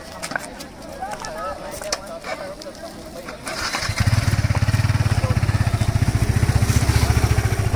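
Yamaha R15 V3 motorcycle engine starting up after a few seconds of quiet ambience, then idling close by with a loud, fast, regular pulsing beat.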